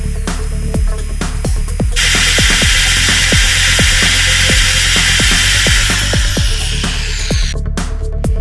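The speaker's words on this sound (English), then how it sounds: "Let's drill some holes." A power drill bores holes into a stuck, sheared bolt during a VW Touran restoration, a loud steady grinding whir with a rapid train of sharp ticks as the bit bites the metal, close and continuous before it stops near the end.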